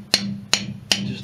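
Four sharp metallic hammer taps on a pump part, evenly spaced about 0.4 seconds apart, loosening the seal on a 12-metre bore pump while a low steady hum runs underneath.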